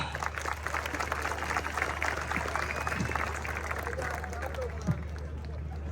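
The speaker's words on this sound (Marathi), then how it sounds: "टाळ्या पाहिजे त्याला." Crowd at a traditional kusti wrestling bout in Jejuri applauds and cheers in a steady, dense roar that fills the whole stretch, with one sharper clap or bump near the end.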